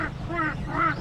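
A duck at Avathi Lake gives about three short, nasal quacks in close succession, fairly near and clear over a low outdoor background hum.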